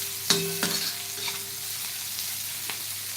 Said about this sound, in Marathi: कांदा चांगला परतून घ्या